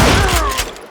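Gunfire in the Western shooter Call of Juarez: Gunslinger comes as a loud, close burst of several overlapping shots with heavy thumps, then trails off in a fading echo.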